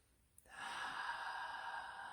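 A single deep breath drawn in at the close of a guided shamanic meditation, a soft sustained airy inhale that swells after a quiet moment and holds steady for about two seconds, close and gentle.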